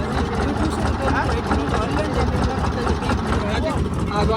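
A boat's diesel engine runs steadily at sea off Shiyalbet island, a loud continuous low rumble and drone with no break, heard close by.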